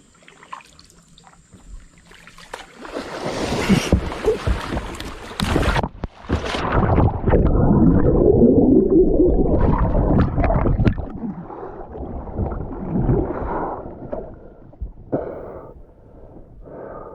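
A crocodile lunging at and striking a kayak in a swamp, heard as a loud, close, sustained burst of churning water and thrashing splashes, then fainter sloshing and rustling.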